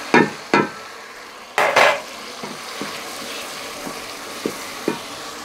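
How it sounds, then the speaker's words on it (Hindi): Spice paste of ginger and garlic with browned onions and whole spices being fried and stirred in a pan for kadhi pakora, giving a few loud scraping stirs at the start, then a softer steady sizzle with occasional light clinks. "इसको फ्राई करते रहेंगे ताकि हमारी मिर्च ना जल जाए"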